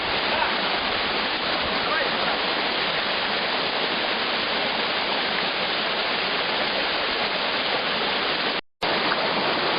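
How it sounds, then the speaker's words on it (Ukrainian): Narynets waterfall, a natural cascade, pours in a loud, steady, unbroken roar of rushing water close by, with a brief dropout near the end. "Перед вами водоспад Нарінець. Ось такий він, натурально природний."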